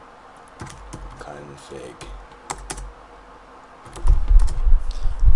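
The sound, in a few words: typing on a computer keyboard in the command prompt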